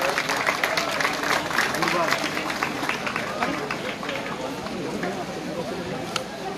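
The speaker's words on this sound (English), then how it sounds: "Round of applause for sir." A crowd applauds steadily, a dense wash of clapping that holds for several seconds before gradually thinning out.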